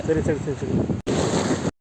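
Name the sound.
wind blowing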